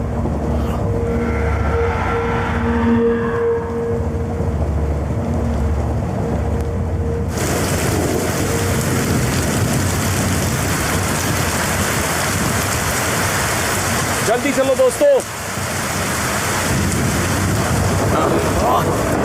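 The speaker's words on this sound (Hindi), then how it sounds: "बारिश बहुत तेज है" Heavy rain from a thunderstorm pours steadily and loudly, turning harsher midway, with a brief rumbling crack near the end and a voice speaking briefly over the downpour.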